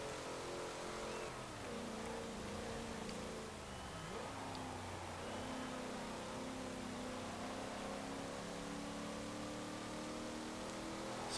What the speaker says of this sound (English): It's also a very slowly revving engine as well.